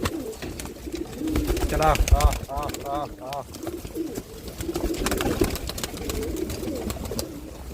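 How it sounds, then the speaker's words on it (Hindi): A kabra pet pigeon coos nearby in a few soft, rolling bursts, with a person talking over and around the cooing. "ये रहा भाई अपना प्यारा काबरा कबूतर"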